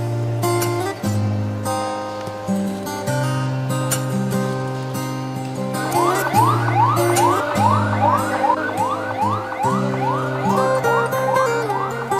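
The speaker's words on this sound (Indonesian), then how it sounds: "setiap saat ambulan mondar-mandir di jalanan, membawa dan merawat pasien" Ambulance sirens wail on a city street in Indonesia during the COVID-19 pandemic, a loud nearby vehicle engine hum beneath, then a rapidly rising and falling electronic yelp pattern joins from about six seconds on, close and continuous.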